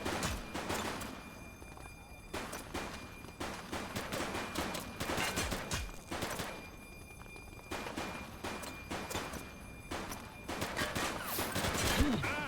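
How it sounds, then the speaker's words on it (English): Rapid bursts of gunfire crackle through a bank assault in the police video game The Precinct, dense repeated shots over a noisy backdrop with voices talking throughout. "He's shooting!"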